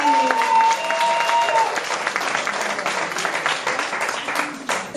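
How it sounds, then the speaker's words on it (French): Guests at a 50th birthday party applauding, a close, full round of clapping that holds steady throughout. "Voilà, un petit applaudissement pour Dorothée."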